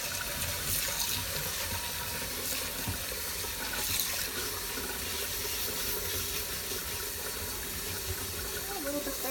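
A tap runs steadily into a sink while a cast iron pan is scrubbed with soap, close water splashing and rushing continuously, with a person's voice faint underneath.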